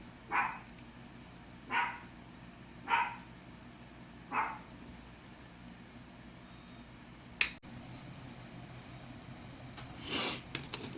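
A dog barks indoors, a string of four evenly spaced single barks a little over a second apart, moderately distant and faint, followed by a sharp click and one more bark after a pause.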